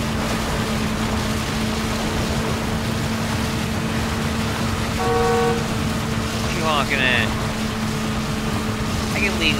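In the Gotham Knights video game, a car horn gives a few short honks amid steady engine and road noise, followed by faint chirping effects.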